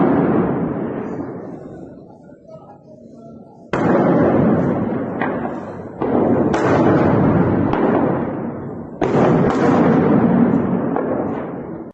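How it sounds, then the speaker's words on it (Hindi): Heavy bombing blasts in Al Bukamal, Syria, booming in three or four large bursts, each followed by a long rumbling decay, loud and fairly close, with no talk. "आपने देखा कि किस तरीके से अल बुकामल में ये बमबारी हुई है"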